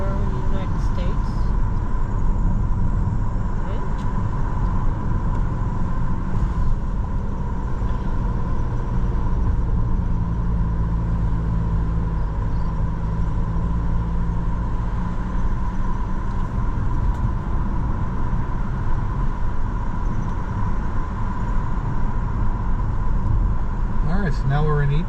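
A car driving along Asharoken Ave on Long Island, with a steady engine and road rumble throughout, close and loud inside the cabin.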